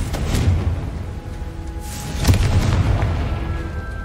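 A Confringo blasting spell detonates in Hogwarts Legacy with a deep, booming explosion, followed by a second heavier burst and a rumbling tail, close and loud.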